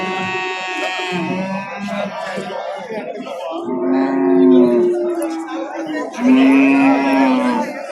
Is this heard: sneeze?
no